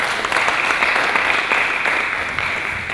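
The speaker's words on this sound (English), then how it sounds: "I think it deserves some round of applause." Steady, dense audience applause at the close of a panel talk in a hall, a continuous loud patter of many hands with no voices over it.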